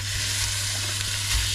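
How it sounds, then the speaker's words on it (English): Bacon, garlic and onions sizzle steadily in butter and olive oil in a pan, a loud, dense, continuous frying crackle close up with no voices. "Chuck the bacon in."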